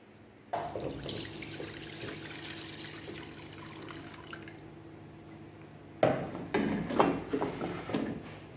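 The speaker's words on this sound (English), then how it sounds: "the content from my slow cooker and place into my Dutch pot" Jamaican stew peas with pigstail and beef poured from a slow cooker into a Dutch pot, a thick liquid sloshing and dripping in two stretches, with wet splatters and clinks near the end.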